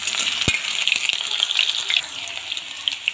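Potatoes frying in a pan make a continuous bright sizzle, close and steady, with a soft knock near the start and light stirring scrapes.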